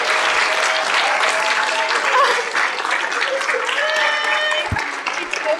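Audience applause after team presentations at a showcase event, with steady, dense clapping from a crowd filling the room, loud and close throughout, with a few cheers and voices mixed in.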